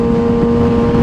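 A Kawasaki ZX6-R 636 sport motorcycle holds a loud, steady exhaust drone at constant revs, close and continuous with no speech.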